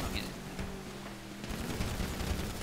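Bursts of rapid gunfire crackle during a GTA roleplay shootout, sounding like a fast fusillade over a low background rumble while people talk over the shots.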